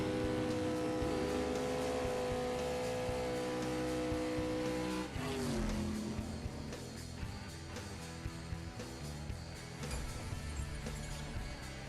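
Engine roar and gear shifts from a drag race in the mobile game CSR2, loud and continuous, with a sharp change around the midpoint as the car shifts and speeds away.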